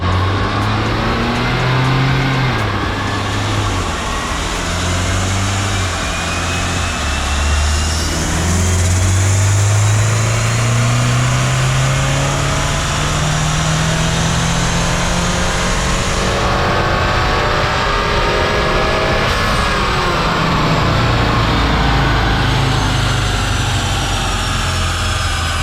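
A 2021 Acura TLX A-Spec tuned with a K-Tuner, catted RV6 downpipe and K&N intake makes a dyno pull. The loud engine climbs through rising revs, drops at shifts and winds up again, droning steadily for about half a minute.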